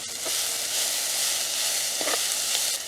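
Green chillies, crushed garlic and ginger sizzle steadily in a hot pan in a Jaffna village kitchen, a continuous close hiss with faint stirring scrapes.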